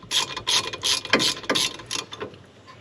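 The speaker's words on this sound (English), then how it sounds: "I'm just going to be removing the little 10mm half bolt, half sliding pin." A ratchet clicks in quick, steady bursts while a 10mm bolt that doubles as a sliding pin comes off a Mazda Miata brake caliper. The rapid ratcheting is close and clear, with no talking.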